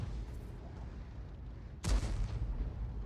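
A single heavy artillery shot booms out midway in a tank video game, the M53/M55 self-propelled gun, a loud sharp blast with a rumbling tail rising over a low engine drone.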